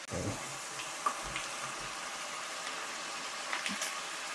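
Beef caldereta with onions and tomatoes cooks slowly in a pan, giving a faint, steady sizzle with a couple of soft clinks partway through.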